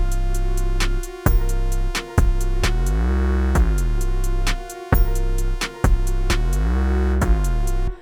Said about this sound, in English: So this is a pretty hard trap beat, right?